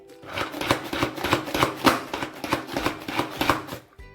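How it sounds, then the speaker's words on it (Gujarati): Garlic being chopped with a knife on a board, a rapid, steady series of close, crisp chops running for about four seconds with no talk. "આ લસણને પણ આપણે એ રીતે ચોપ કરી લેવાનું છે"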